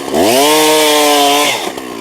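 A chainsaw, either a Stihl or a Husqvarna, revs up close while cutting firewood, its engine whine rising in pitch, holding a loud steady buzz for over a second, then dropping back to idle.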